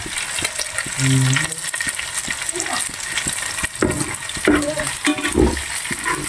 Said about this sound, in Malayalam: ചിക്കൻ വറുത്തോണ്ടിരിക്കുന്നുണ്ട്.